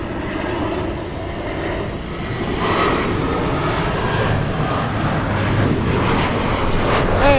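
A KLM airliner passes at Los Angeles International Airport, a loud, broad engine roar that holds steady and swells slightly as it goes by.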